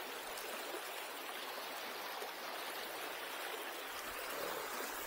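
Deep, fast-flowing stream rushing steadily, a broad continuous wash of water close by with no talk.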